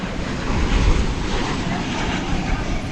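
Night-time roar of an American Airlines Boeing 777-200 moving at DFW Airport, a steady low rumble of jet engines heard from a distance with wind buffeting the microphone throughout.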